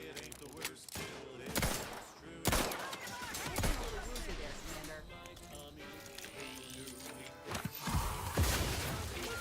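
An automated turret opens fire in the sci-fi game The Outer Worlds 2, with dense, loud bursts of gunfire and impacts repeating across the clip while a player talks over the action.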